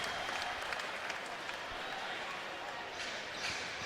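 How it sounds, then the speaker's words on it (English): Steady applause from an arena crowd at an NBA Development League basketball game between the Fort Wayne Mad Ants and Santa Cruz Warriors, a dense continuous clapping wash with no speech on top. "Gets a nice round of applause."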